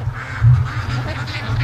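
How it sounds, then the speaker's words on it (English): Free-range ducks feeding on a lawn, quacking loudly and close in a continuous rough chorus with one stronger burst partway through. "The little ducks."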